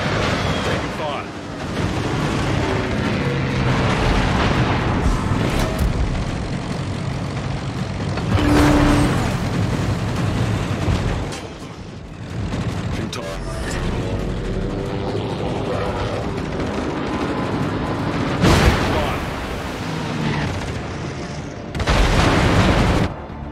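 Naval anti-aircraft guns fire at incoming planes in World of Warships, where the British Tier 8 carrier HMS Implacable launches aircraft. Repeated booms and bursts of gunfire run under steady battle noise, and a voice speaks over it.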